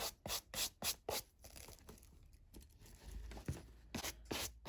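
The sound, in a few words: brushing a shoe with a little brush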